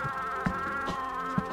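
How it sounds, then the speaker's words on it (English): Buzzing bees in the video game Cozy Caravan hum softly and steadily, with a few faint clicks or taps underneath, and no voices. "now the bees are here"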